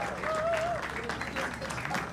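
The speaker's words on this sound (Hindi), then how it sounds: "जोरदार तालियां for तन्मय भाई man" Studio audience applause for a comedian on a comedy show, a brief burst of crowd clapping with voices and a whistle-like tone over it, moderate and steady.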